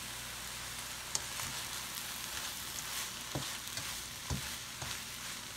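Bacon and egg fried rice gets stirred in a hot pan, a steady moderate sizzle with a few soft scraping knocks of the utensil.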